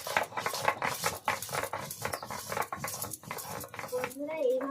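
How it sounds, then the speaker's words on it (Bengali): Dried chillies being ground by hand on a traditional stone slab in a village kitchen, a repeated rough scraping and rubbing rhythm up close, with speech heard over part of it. "শুকনো লঙ্কাগুলো প্রথমে বেটে নেব।"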